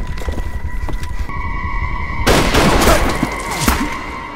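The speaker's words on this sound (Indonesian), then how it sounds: "Dan Bonggu pun berhasil mengenai penembak jitu musuh, tetapi musuh juga berhasil menembak Jangha." Film gunfire from a sniper duel: loud, close shots with a sharp burst midway that sets off a dense, crackling blast, ringing tones held underneath, and no speech.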